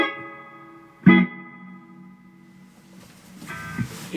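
A Danelectro Spring King spring reverb with an electric guitar playing sustained notes and a short struck chord, the tones washing out in a splashy, springy reverb tail, reverb turned way up.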